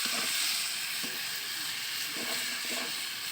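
Spice paste with chili powder fries in hot oil for a soybean chunk and potato curry, giving a steady, close hissing sizzle with faint crackles and no talking.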